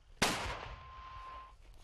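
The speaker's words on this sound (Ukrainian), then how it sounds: "Ледве цілі отримані, батарея починає вогонь." A heavy mortar fires a single loud, sharp round that booms out, then decays over a second or so with a lingering ring and a distant rumble.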